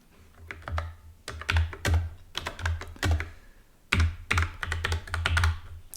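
Typing on a computer keyboard while writing COBOL code, bursts of quick, close key clicks broken by short pauses, with no talking.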